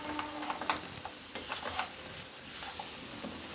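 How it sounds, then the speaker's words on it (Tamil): Brinjal sautéing and being stirred in a pan, a soft steady sizzle with light scraping and occasional clicks of the spoon, fairly quiet and close, with no talking. "கத்திரிக்காய் போட்டு நல்லா ஒரு 2 நிமிஷம் அப்படியே நல்லா கிண்டி விடுங்க"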